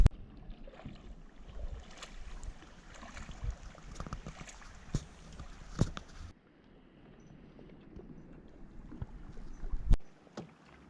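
A kayak paddles across a calm lake at sunset in North Cascades National Park, with soft rhythmic water swishes and drips, light wind noise on the microphone, and a sharper splash near the end.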